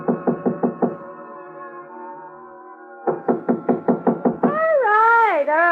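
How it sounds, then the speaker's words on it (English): A knuckle raps on a hotel suite door in a radio drama: a run of four knocks, a pause under a sustained organ-like tone, then six more, followed by a voice speaking. "So I tried knocking."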